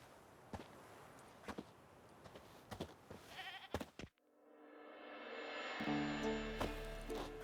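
A tethered goat in The Witcher 3, tied to a stake as bait for a forktail, with scattered footsteps and thuds followed by a sustained wavering bleat that swells loudly near the end.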